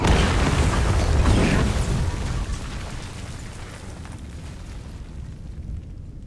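A bomb goes off with a loud, broad boom that rolls into a long, decaying rumble and debris noise, fading slowly over several seconds with no voices.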